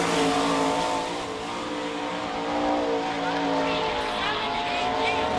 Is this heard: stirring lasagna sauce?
no